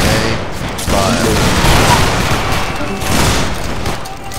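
In the video game Battlegrounds 3, a line of muskets fires a ragged volley, loud and close. The overlapping cracks roll into a sustained rumble that slowly fades.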